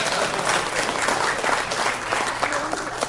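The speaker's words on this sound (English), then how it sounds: "give Patricia a round of applause" Sustained, even applause from a seated audience fills the space, steady and fairly loud for several seconds with no voices breaking through.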